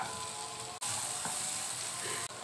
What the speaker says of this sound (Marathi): थोडंसं परतलं गेलं आहे, त्याच्यामध्ये कांदा टाकत आहे।